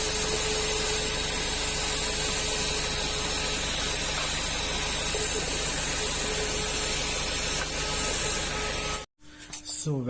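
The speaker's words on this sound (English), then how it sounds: "Now let me try to do vacuum on this so that we try to get some dust" Vacuum cleaner sucking dust during an ABS sensor replacement on a Skoda Rapid, a loud, steady whine and hiss running close up for about nine seconds before cutting off abruptly.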